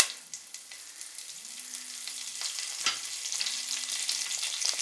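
Whole cloves, star anise, cinnamon, cardamom, stone flower and curry leaves frying in a pan for chicken masala make a soft, continuous sizzle that grows slightly louder, with a faint low hum underneath.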